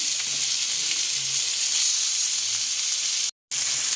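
Shrimp sizzle steadily in a hot pan while being fried for ginataang gulay, a loud continuous hiss heard up close with no talking, broken by a brief silent gap near the end.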